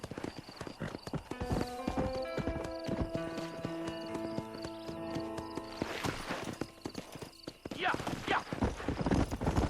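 Horse hooves galloping in Red Dead Redemption, a steady rapid clip-clop with a horse whinny near the end, loud and continuous beneath a brief spoken exchange.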